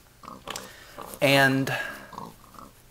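Pig oinks from custom spawners in the Minecraft video game, a short, loud grunting squeal in the middle, with someone talking quietly before and after.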